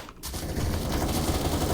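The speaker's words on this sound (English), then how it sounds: "I love the wall bang on this gun." Rapid automatic gunfire from a video game weapon, a continuous dense burst of shots after a brief gap, loud and close.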